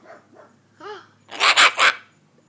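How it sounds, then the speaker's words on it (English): A dog barks several times in a quick loud burst of three close barks after a few quieter vocal sounds, indoors near a pet bird. "Did you hear that doggy?"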